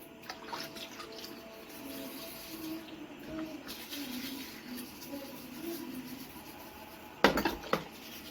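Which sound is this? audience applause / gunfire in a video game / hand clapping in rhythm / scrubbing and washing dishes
scrubbing and washing dishes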